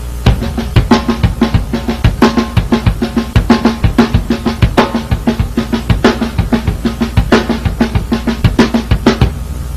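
On a drum kit, bass drum strokes alternate with left-hand snare backbeats in a steady, busy rock groove, loud and close with no voices over the playing.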